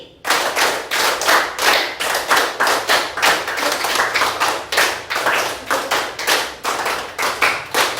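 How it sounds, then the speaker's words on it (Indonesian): A group claps hands in unison at a steady rhythm, many sharp claps in a row, loud and close, with no talk. "tepuk 5 kali."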